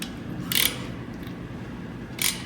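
Ratchet straps are cranked tight on a Corvette chassis jig: two short, close metallic ratcheting bursts about two seconds apart over a steady low shop hum.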